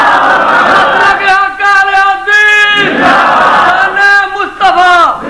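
Large crowd at a religious gathering answering the Nara-e-Takbir chant, loud massed voices shouting in unison in several sustained surging bursts one after another.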